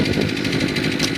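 Subaru car engine running at a high idle, a steady close mechanical hum and drone with a faint pulsing texture, heard alone for a moment.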